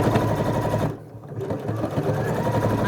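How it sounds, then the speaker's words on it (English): A sewing machine stitches a fabric bag seam with a fast, steady mechanical whir and rattle, pausing briefly for about half a second before resuming at full speed. "I'm just coming round to my stitches again. And I'm just going over my original stitches."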